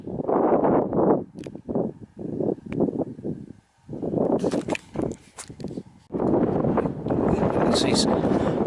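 Wind buffets the microphone on a hilltop summit in Wales, with loud gusty rumbles in uneven bursts and a sustained roar near the end, as someone talks between the gusts.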